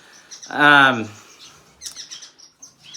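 An Australian cockatiel gives one loud, close, harmonic chirp call, followed by a few softer, quick chirps and tweets nearby.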